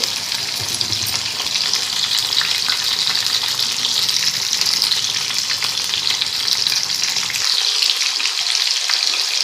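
Sliced ivy gourd frying in hot oil in a pan, giving a steady, dense, close sizzle with light stirring scrapes throughout and no voices.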